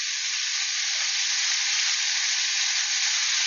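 Thick burger patties sear in a frying pan, left alone without pressing, producing a loud, steady, close sizzle that holds evenly throughout with no voices.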